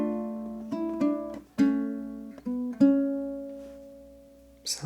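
A ukulele plays the second ending of Greensleeves, with slow plucked notes ringing out one after another and decaying cleanly, close and solo without any talk.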